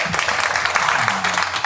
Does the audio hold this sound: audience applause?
yes